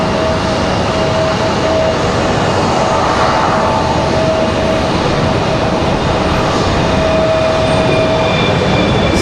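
Steady loud roar of a Republic Airways Embraer E175 jet at Raleigh-Durham airport, engines whining continuously with a high tonal hum as it moves, no talk over it.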